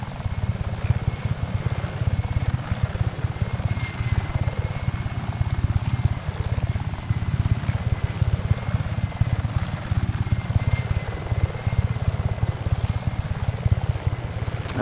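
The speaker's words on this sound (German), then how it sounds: "So, ich hoffe mal, dass der Helikopter jetzt auch da bleibt." A helicopter in the video game Just Cause 3 drones on with a dense, steady rotor chop and a slowly wavering engine tone, loud and close for the whole stretch, with no voices.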